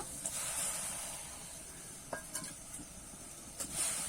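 Turmeric-and-salt-coated shrimp frying in hot oil in a wok, a soft continuous sizzle broken by a few scraping stirs of a spatula against the pan, quiet and close.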